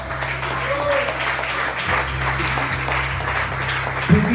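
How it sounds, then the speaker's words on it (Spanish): Congregation applauding the Lord during an evangelist's sermon at a church service, a steady broadband wash of clapping sustained throughout at moderate loudness, with a brief thump near the end. "Denle un fuerte aplauso al Señor."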